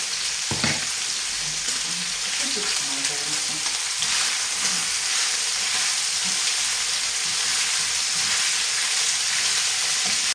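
Chopped onion fries in a pan, giving a continuous close sizzle and crackle with some stirring clatter early on, steady and without voices.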